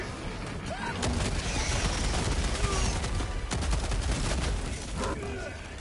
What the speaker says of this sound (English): Auto cannons right here.